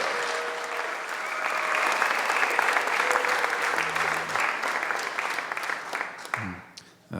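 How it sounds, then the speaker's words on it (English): An audience at a homecoming ceremony with the Lummi Nation applauds for a guest, steady full clapping throughout with a few voices and a brief tone underneath before it fades. "So round of applause for our friend Dana Lyons."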